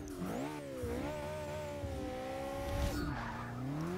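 BMW E30 or McLaren 650S in the racing game Forza Motorsport 6 launching from a standstill, engine revving hard with a rising pitch, a brief drop at a gear shift, tire squeal, heard alone.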